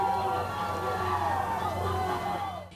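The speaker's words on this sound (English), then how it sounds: "fans at Ernie's could be heard cheering on the Pack from outside" Packers fans cheer and shout together in a crowded bar during a football game. The crowd noise is a continuous murmur with raised voices throughout, and a speaking voice sits over it.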